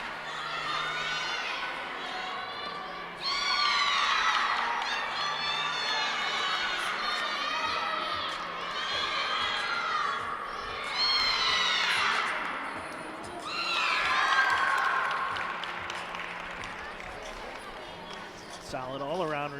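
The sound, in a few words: applause and cheering from gymnastics teammates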